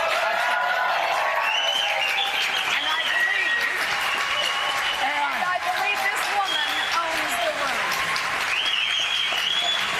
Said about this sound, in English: I will say, John Heilman, that is the loudest applause I've ever heard for you before